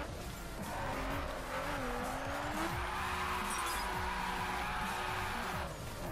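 A RUF CTR-3 in the racing game The Crew drifts and skids, a drawn-out tire squeal over a steady engine roar, loud and continuous for several seconds.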